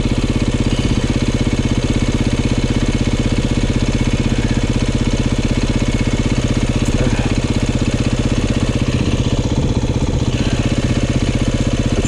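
A dirt bike engine, on an off-road ride among bikes such as a Beta RR500, KTM 300 and YZ450, drones steadily and loudly throughout, holding high revs with a continuous buzzing tone and no pauses.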